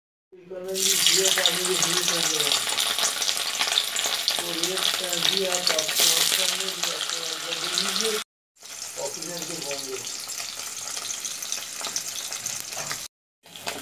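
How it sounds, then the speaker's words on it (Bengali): Paneer frying in hot oil in a kadai, a loud steady sizzle that runs unbroken, cut by two brief silences, with faint stirring beneath. "পনির ভাজার জন্য কড়া বসিয়ে দিয়েছি।"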